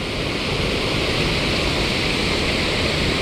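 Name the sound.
Düden Waterfall in Antalya, water pounding hard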